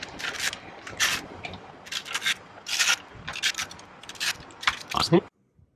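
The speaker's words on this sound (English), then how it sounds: "we've got to get these 4 screws off, which are Torx bits, nice small ones" Small Torx screws are undone from a BMW E39/E53 M instrument cluster, giving repeated close scratchy, rasping turns in short bursts, ending with a sharper squeak and silence.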